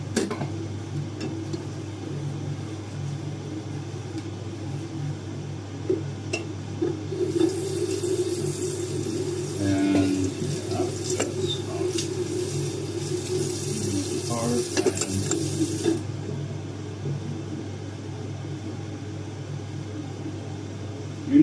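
Dishes and utensils are rinsed under a running tap in a kitchen sink, with a steady hiss of water and intermittent clinks and knocks of handled items. A faint hum sits underneath, and the tap noise swells in the middle stretch.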